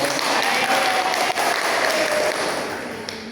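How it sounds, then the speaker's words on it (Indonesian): A school class applauds a student's answer in a civics lesson, a full burst of clapping from many hands that stays steady and loud before easing slightly near the end. "Baik, beri tepuk tangan dulu dong."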